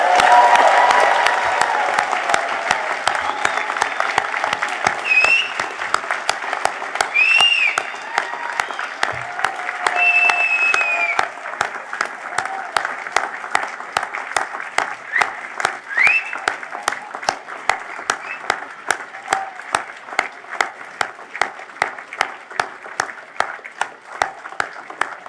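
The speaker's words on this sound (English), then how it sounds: "What a wonderful applause" Sustained applause from a crowd of guests at a university graduation ceremony for the class of 2022, dense and loud at first, then thinning into scattered individual claps toward the end, with faint voices underneath.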